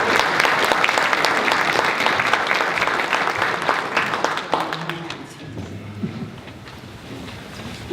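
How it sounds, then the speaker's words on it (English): Audience welcoming a priest speaker with loud, sustained applause that fades somewhat toward the end, with a voice faintly heard beneath it. "I'd like to give him a round of applause as we welcome him."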